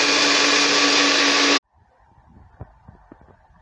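A loud, steady whirring roar of a blender chopping neem leaves with a little water runs for about a second and a half, then cuts off abruptly, leaving faint clatter and quiet background noise.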